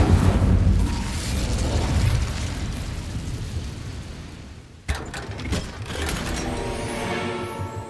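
A burst of spell fire in Hogwarts Legacy: a loud, roaring whoosh that slowly fades, then a sharp pop at the midpoint followed by crackling and mechanical clatter, with no voices.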